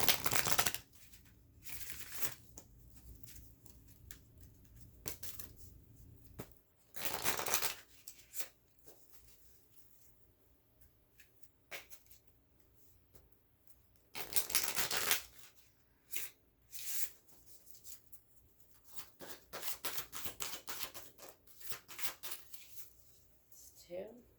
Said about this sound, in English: let's go ahead and get a goddess card for her